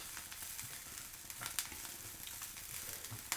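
Kale cooks with onion in a pan, giving a steady soft sizzle with scattered crackles and light stirring scrapes, close and moderately quiet.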